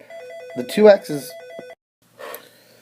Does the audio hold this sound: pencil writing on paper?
no